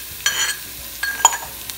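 Crushed garlic and green chilli sauté in a pan for Kerala-style puzhukku, heard as a soft sizzle with a few brief stirring scrapes.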